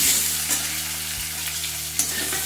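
Eggplant pieces fry in hot oil with dried chilli and a little turmeric, a steady loud sizzle with a low hum beneath it and a brief clatter of stirring around the two-second mark.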